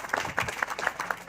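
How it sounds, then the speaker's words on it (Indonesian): A rice harvest celebration crowd in a village in Jember claps lightly and unevenly, a fairly faint patter of hands with a few sharper claps standing out. "Tepuk tangan dulu nih semangatnya."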